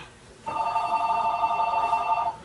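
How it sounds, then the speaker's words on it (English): A telephone rings steadily with a bright electronic tone, one continuous ring lasting about two seconds, clear and fairly close. "Jared, pick up the damn phone faster."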